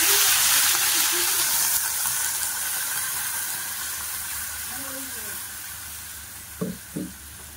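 Shrimp and pumpkin curry sizzles and steams in a pan as water goes in, a loud hiss that slowly fades, with a few faint voices and brief clinks near the end.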